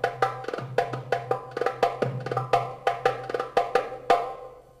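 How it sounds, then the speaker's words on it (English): A metal darbuka is played in a quick, lively Turkish rhythm, crisp ringing slaps and deeper doum strokes in rapid succession, heard up close with no talking. "So, you've heard the sound of the metal darbuka."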